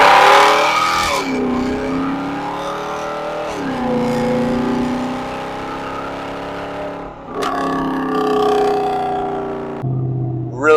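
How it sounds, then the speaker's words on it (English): A Mercedes C63 exhaust drones loudly from inside the moving car, rising in pitch through several gear pulls with brief shifts between them, steady and close throughout. "Let's get some great exhaust sounds."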